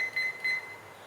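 Kitchen timer being set for tea steeping, three short high electronic beeps in quick succession, close and clear.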